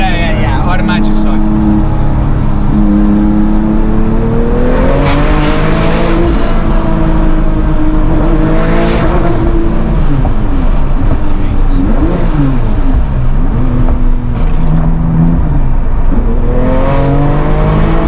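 A modified 750 hp Porsche 911 997 Turbo drives hard, its engine roaring loud and close with repeated rising and falling revs, while people talk inside the car.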